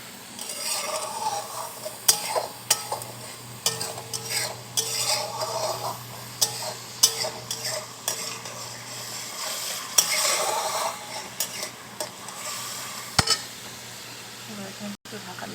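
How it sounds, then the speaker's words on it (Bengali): Vegetables in a sizzling pan are stirred with a metal utensil, giving repeated scraping clinks and taps over a low steady fry; someone speaks quietly over the cooking sounds. "জল দিয়ে এটাকে নেড়ে একটু ঢাকা দিয়ে দেবো 5 মিনিটের মতো।"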